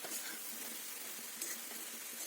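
Dried fish (sukat) frying in a pan with garam masala and red chilli, a steady, soft, even sizzling hiss with no voices.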